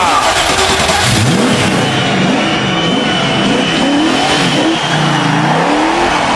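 A TVR Chimera two-seater sports car with a 5-litre V8 revs loudly and close by, its engine note rising and falling in repeated throaty surges over a steady roar.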